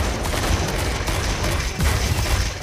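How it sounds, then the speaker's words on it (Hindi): Missile launches from a mech in the mobile game Mech Arena, a dense, continuous barrage of thudding blasts and rumble with no gaps, loud and close throughout, with no voices over it. "मैंने कार में मिसाइल चला दिए"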